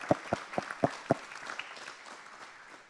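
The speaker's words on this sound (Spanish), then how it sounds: "un aplauso para Andrés Maramud" At the JONAGRO 2022 agricultural conference in Argentina, an audience gives a speaker a few sharp, distinct hand claps in quick succession, then the clapping thins out into faint scattered patter.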